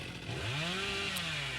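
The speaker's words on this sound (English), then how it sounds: "we already started with the chainsaw" The Hillbilly's chainsaw revs in the video game Dead by Daylight, a sustained buzzing engine drone whose pitch sweeps up and then settles, loud and continuous over a brief stretch with no talking.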